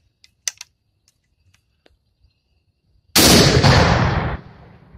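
A few faint clicks and taps, then a single very loud 12 gauge shotgun blank blast that rings out and fades over about a second.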